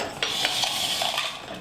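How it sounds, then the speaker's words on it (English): A spatula scrapes and mixes gluten-free cake batter in a bowl, giving close, soft clinks and scraping strokes over a faint background hiss. "I'm just going to use my spatula to make sure that everything is in the inside."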